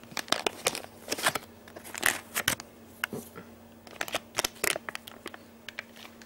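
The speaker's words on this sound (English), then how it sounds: "Sorry, I do need my scissors." Scissors snip open a Popin Cookin candy-kit packet close up, giving a series of irregular crisp cuts and crinkly plastic rustles over a faint steady hum.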